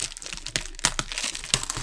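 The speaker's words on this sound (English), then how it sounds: "step one is to break all these little boxes out of the shrink wrap" Plastic shrink wrap on a Dungeons & Dragons booster brick crinkles and rips as it is cut open, with close, sharp crackles and a few distinct snips and tears in irregular bursts.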